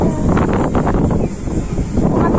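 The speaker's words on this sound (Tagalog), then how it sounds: "Ang hangin guys!" Steady rushing wind buffets the microphone throughout on a spinning fairground whirly-bird ride, a loud continuous roar with fluctuating gusts and no talk.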